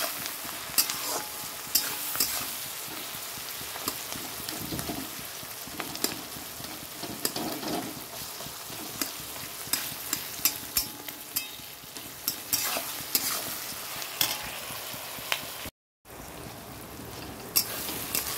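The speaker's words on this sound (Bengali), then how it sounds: "পেঁয়াজটা দেখো মোটামুটি ভাজা হয়ে গেছে।" Sliced onions frying in a pan, stirred often, make a soft, even sizzle broken by frequent sharp spatula scrapes and clicks, all fairly quiet, with a brief gap near the end and no speech.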